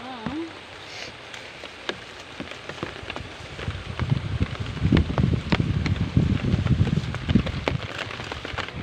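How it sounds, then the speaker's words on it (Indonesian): Rain falls steadily on a farm during harvest, scattered drops ticking and pattering sharply over a soft hiss that thickens and grows louder through the second half, with a brief voice near the start. "Dan hujan guys. Jadi kita berteduh dulu."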